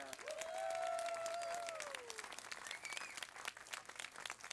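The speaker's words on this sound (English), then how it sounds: "Help me again offer up a great round of applause" Applause from a crowd at a Christmas tree lighting ceremony in Nashville, steady clapping with a whistle or cheer rising over it near the start, then continuing and thinning slightly.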